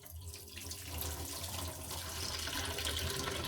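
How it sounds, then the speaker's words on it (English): Running tap water splashes steadily over freshly harvested pak choi being rinsed clean of soil, a continuous close, fairly quiet hiss and patter with no talk. "Now I'm only giving these a slight rinse because of the soil"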